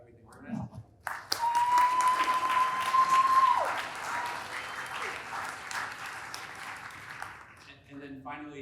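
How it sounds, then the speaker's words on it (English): Sustained applause from an audience at the ML4H 2023 conference fills the room for several seconds, with a brief voice before it and talk resuming as it fades. "if we could give a round of applause to Tasmany"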